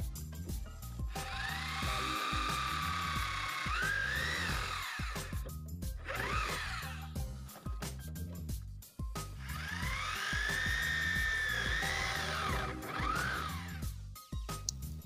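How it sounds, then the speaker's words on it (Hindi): A power tool tightening the nuts on a satellite dish stand, whining in two long bursts that rise and fall in pitch with brief pauses between them, close and fairly loud, with no talk. "इसको हम अच्छी तरह से दोनों नट को टाइट कर लेंगे। चलिए टाइट कर लेते हैं।"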